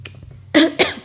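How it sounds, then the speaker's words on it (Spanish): A person coughs twice in quick succession, loud and close, partway through a short pause in talk, with a faint low hum underneath. "perdón por la tos"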